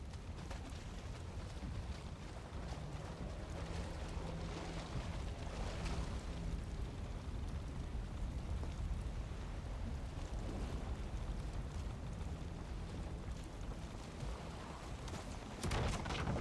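A boat pushing off and sailing across open water in the Viking survival game Valheim, with a steady wash of wind and waves running throughout at an even level and a brief louder gust near the end.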